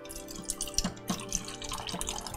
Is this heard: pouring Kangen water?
yes